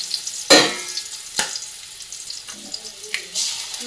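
An egg goes into a pan beside already-fried vegetables. A soft, low sizzle runs underneath a few sharp clacks and knocks of utensils against the pan, close by, with quiet gaps between them.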